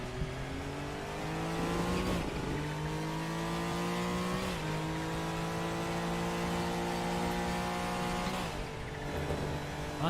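A Group C race car in the RaceRoom sim racing game revs hard and climbs through the gears, with three sharp upshifts breaking a loud, continuous engine howl.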